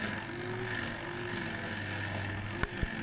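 A stump grinder chews into a 20-inch stump with a steady, loud engine drone and cutting hum, broken near the end by two sharp knocks.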